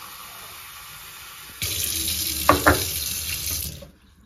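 Water from a tap runs into a glass, starting abruptly after a quiet moment and pouring steadily for about two seconds with a couple of splashy bumps, then cutting off.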